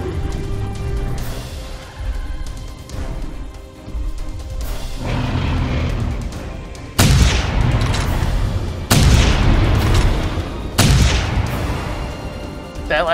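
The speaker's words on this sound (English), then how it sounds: "That last shot hit the wall." Loud booming gunshots in the theHunter Primal hunting game, three or four heavy blasts spaced a couple of seconds apart over a low rumbling background.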